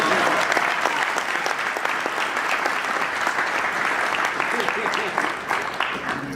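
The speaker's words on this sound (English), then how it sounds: "Can you give this man a round of applause for the job he's done?" Audience applause at a broadcasting Hall of Fame award ceremony, sustained and fairly loud steady clapping from a crowd, with faint talk beneath it.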